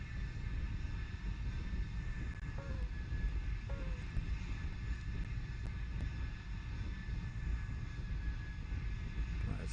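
A B-52 bomber in the video game War Thunder flies at low throttle, a steady, deep engine rumble with airflow roar, continuous and even throughout.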